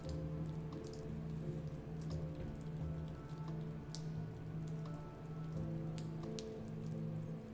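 Running shower water in House Flipper, a steady soft hiss of spray drumming on a surface, faint and continuous, accompanied by quiet background music tones.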